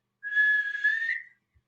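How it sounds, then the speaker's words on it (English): A person whistles one steady, slightly wavering note for about a second, close and clear against silence. "That's my whistle. I don't whistle that great."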